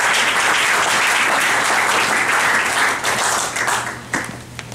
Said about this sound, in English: Let's give a round of applause for Tandy.